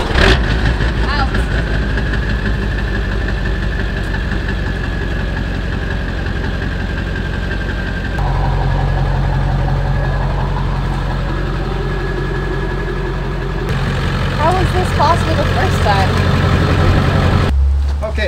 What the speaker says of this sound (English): You kind of have to wiggle the truck out from underneath the camper